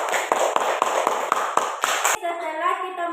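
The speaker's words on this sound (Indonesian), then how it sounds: "Oke, tepuk tangan dulu" A classroom of pupils clapping together in a quick rhythmic burst of about ten sharp claps, close and loud, ending abruptly as a voice begins speaking.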